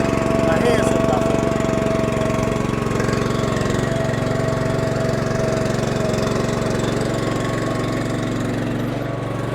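Earth and Turf top dresser running steady as it drops sand, a continuous mid-pitched engine drone with a mechanical hum and rattle, close and loud throughout with a slight fade near the end.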